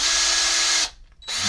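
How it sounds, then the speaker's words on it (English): A power drill with a large bit whines steadily and loudly while boring through a vintage Zippo petrol lighter insert, cuts out for a moment, then spins up again. "I usually just hit it with the big drill bit, straight tube, and if it'll go through"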